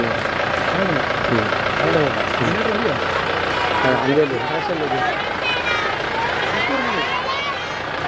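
A generator powers a Republic Day flag-hoisting celebration, running as a steady low hum. Voices talk loudly over it the whole time.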